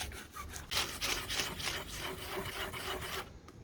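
A rubber eraser is scrubbed across surf skate grip tape, giving a run of loud, rough rubbing strokes in steady rhythm that stops near the end, with no talk.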